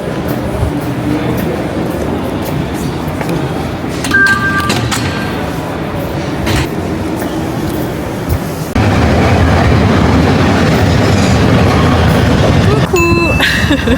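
A metro train rolling on its rails, a loud continuous rumble and clatter heard from inside the car with brief squeals and clicks, the roar swelling louder partway through.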